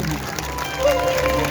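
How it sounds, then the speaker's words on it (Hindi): Audience clapping at a Khatu Shyam bhajan jagran, a dense patter of applause that swells slightly midway, with a voice and background music running underneath. "जोरदार तालियां बजे अमित धुल जी के लिए"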